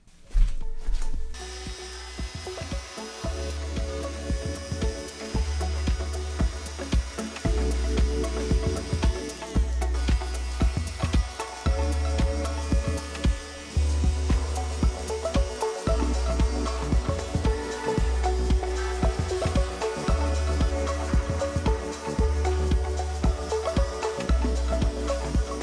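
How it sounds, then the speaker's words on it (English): Epoxy hot coat is sanded down at a surfboard tail with a power sander, a steady close grinding whir running the whole way with a pulsing low-end rhythm and brief dips as the sander lifts and touches down. "I am also going to just touch up real quick at the tail and just sand that down just a little bit"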